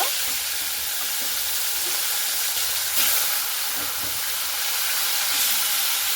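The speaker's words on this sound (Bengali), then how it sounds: "এরপরে বাকি যে মাছের মাথাগুলো আছে সেইভাবে সেম ভাবে আমি ভেজে নেব।" Fish heads fry in hot oil in a pan for a Bengali fish-head dish, giving a steady broadband sizzle and hiss with occasional soft pops and spatters, close and continuous with no talking.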